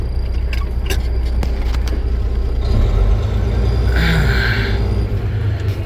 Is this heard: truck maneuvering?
yes